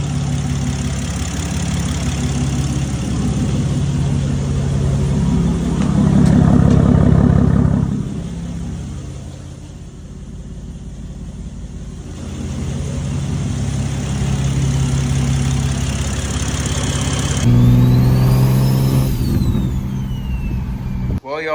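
A big-turbo Toyota Supra MKV running on pump E85 idles with a loud, steady rumble, swelling in revs around the middle and rising sharply near the end, with people talking over it.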